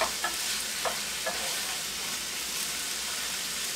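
Cabbage and beef sizzle in a skillet, a dense, steady frying hiss, with a few soft scrapes from an olive wood utensil stirring near the start.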